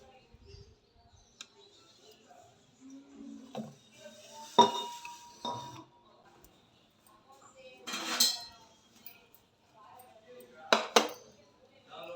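A spoon clinks against a cup or glass while protein powder is stirred into warmed milk, giving a few sharp metallic clinks and taps in short bursts spread over a quiet kitchen background.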